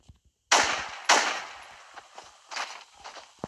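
Gunshots ring out in Fortnite Battle Royale: two sharp, loud cracks about half a second apart, then a scatter of softer pops and clicks, with two more bursts near the end.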